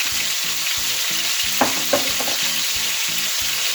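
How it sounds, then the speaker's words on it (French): Pork loin sears in a hot frying pan, a loud steady sizzle with a regular bubbling pulse and a couple of brief clicks of a utensil against the pan. "C'est saisi."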